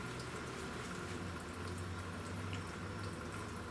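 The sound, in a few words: coolant draining from Honda Civic into pan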